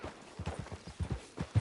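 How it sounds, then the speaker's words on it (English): Horse hooves clip-clop in Red Dead Redemption 2, a close, uneven walking rhythm of soft thuds on dirt, about a dozen steps, fairly quiet. "Get on the horse when you're ready."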